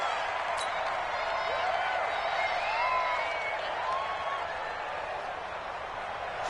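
Steady stadium crowd roar from a PS4 American football game, a continuous wash of cheering and noise with a faint whistle-like tone, no distinct peaks.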